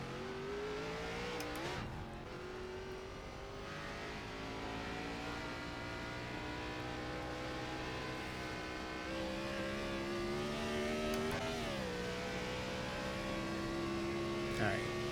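Sim racing car engine in iRacing revving steadily for about fifteen seconds, harmonic pitch climbing and dropping with gear changes, a sharp shift near two seconds and another around eleven, continuous and fairly loud.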